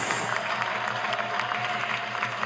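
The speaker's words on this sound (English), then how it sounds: "Can we give him another round of applause" An audience at an Ekiti State government budget presentation applauds, a dense, steady wash of clapping from a crowd indoors, sustained and moderately loud throughout.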